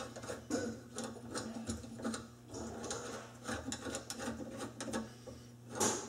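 Screws are tightened on a garbage disposal mount assembly, giving steady small metallic clicks and ratcheting scrapes with no talk over them.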